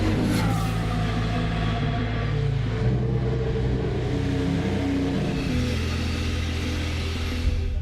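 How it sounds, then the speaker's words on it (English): A Toro Rosso STR10 Formula One car running during pre-season testing, a continuous loud engine roar with shifting pitch as it revs, steady throughout. "Max will have to watch as Carlos gets the first ever ride of the STR10."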